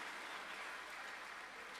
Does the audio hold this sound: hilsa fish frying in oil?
no